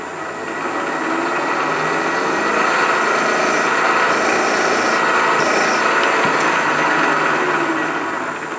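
A machine motor hums and whines steadily and loudly throughout, with a faint cutting hiss layered on top as a center drill works a part on a lathe while building a Hemingway Kit spherical ball turner.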